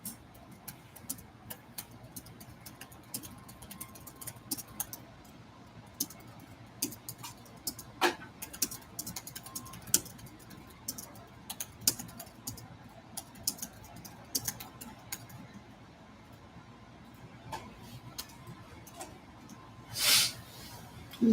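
Typing on a computer keyboard during a relaxed crochet-and-chat session: soft, irregular key clicks in quiet bursts, faint and close, with a few louder taps and no talk.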